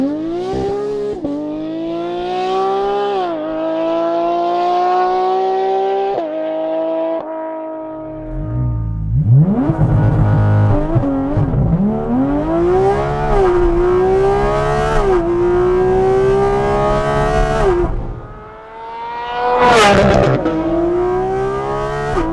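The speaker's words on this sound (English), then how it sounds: "Let's see if we can do launch control." A Porsche Cayman GT4 RS with a dual-clutch transmission launches hard, its engine howling up through the revs, dropping briefly at each quick upshift, then climbing loud and close again.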